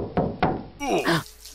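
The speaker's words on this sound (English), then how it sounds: "Someone's at the door!" Two sharp knocks on a door in the Poppy Playtime video game, loud and close and evenly spaced, followed by a rising cartoonish voice or creature sound.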